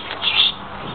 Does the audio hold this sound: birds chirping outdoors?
yes